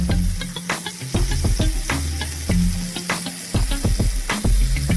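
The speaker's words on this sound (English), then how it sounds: "Add a little, see how that sizzles up?" Pancakes sizzle loudly in a hot pan, a steady frying crackle with scraping and clinking of a spatula moving them around.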